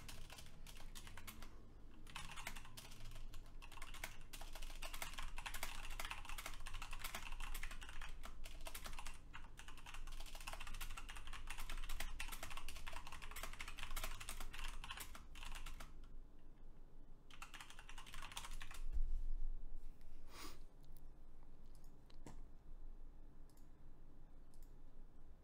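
Computer keyboard typing runs nearly continuously with dense, fast clicking keystrokes, close and moderately loud, with brief pauses near the end and no talking.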